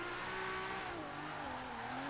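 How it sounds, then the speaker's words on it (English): A 1971 Nissan Skyline Hakosuka drift build in Forza Horizon revs hard near redline, with a sustained engine howl that dips and rises and light tire squeal underneath, loud and continuous, no talk. "This engine sounds freaking fantastic."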